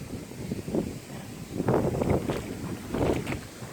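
Gusty, cold wind in rural Isan, Thailand, buffets the microphone in rough, low surges that swell and fade several times.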